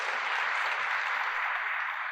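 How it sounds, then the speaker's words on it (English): A plenary session audience at a youth forum claps for a speaker, dense steady applause filling the room for a couple of seconds, even and sustained. "A big round of applause for Kendall."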